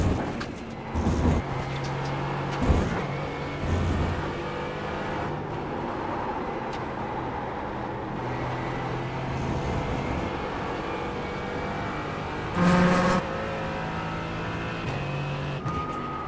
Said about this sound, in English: I think a couple of more LMP3s behind us.